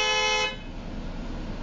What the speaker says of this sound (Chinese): 公车驾驶猛按喇叭